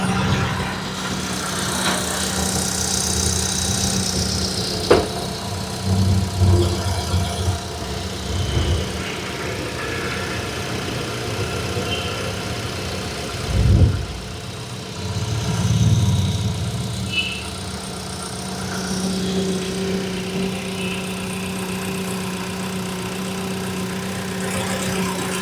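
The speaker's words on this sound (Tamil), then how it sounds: "இப்போ வண்டியோட இன்ஜின் சவுண்ட் எப்படி இருக்குன்றதை பார்க்கலாம்" A 2014 Chevrolet Enjoy LT petrol car idles with a steady, moderately loud hum and low drone. A few brief thumps and rises in level break in near the middle, and no one speaks.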